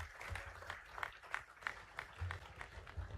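An audience claps at a public felicitation ceremony honouring students, faint and distant, with a loose rhythmic patter of hands and some background murmur.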